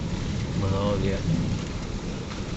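Steady rain falls outside a window in Islamabad during wet weather, forming a dense, even hiss with faint rumbling beneath it and a brief murmur of voices in the middle.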